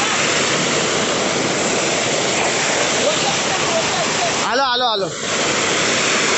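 A waterfall roars loudly and steadily, with flowing water filling the whole scene; a voice shouts briefly near the end.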